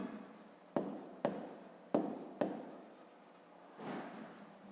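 Chalk or marker writing on a board during a fifth-grade math exercise, a series of distinct scratchy strokes with sharp onsets and fading scrapes, close and alone with no talk.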